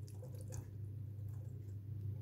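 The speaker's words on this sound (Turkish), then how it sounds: "İlk önce mısırlarımı suyundan süzüp güzelce yıkayıp tenceremin içerisine alıyorum." Canned corn being drained through a colander gives a faint soft trickle and drip of liquid over a low steady background hum, quiet and continuous with no talk.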